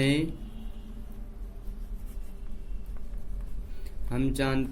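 Soft scratchy strokes of writing on paper or board during a Class 9 maths lesson on cone surface area and volume, running steadily for several seconds between short bursts of a man's speech at the start and end.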